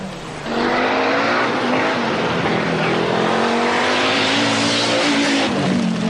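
A rally car on a dry, dusty, frozen forest stage of the RAC Rally approaches and passes close by, its engine revving hard and loud with rising and falling pitch over several seconds.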